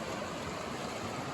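A clear, shallow mountain river flows steadily, a soft broadband rush of water with no breaks, close by and at an even level throughout.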